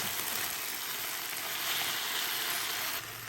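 Black pepper beef stir-fries in sauce in a hot pan, giving a loud, continuous close-up sizzle that holds steady throughout.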